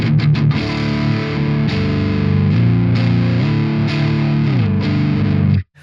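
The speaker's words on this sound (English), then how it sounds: "Sounds really good for those add 9 chords and the neck." Electric guitar on the clean channel of a Vola OZ ROA, played on the neck pickup, strums a sequence of ringing add9 chords, each held and blending into the next, loud and close, then cut off abruptly near the end.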